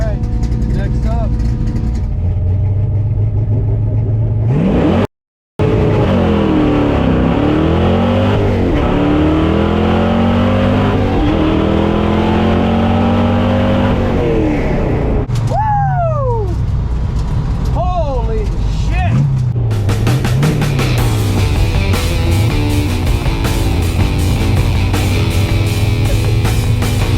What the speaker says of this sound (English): that sounded like no two-step